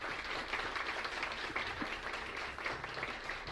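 Audience applause at a digital transformation workshop on energy retail, a steady wash of clapping from a room of people holding for several seconds at moderate level, no talk over it.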